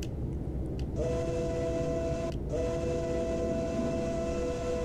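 A steam locomotive three-chime whistle in American Truck Simulator blows a loud, sustained chord, broken by one brief gap and then held steady over a constant low rumble.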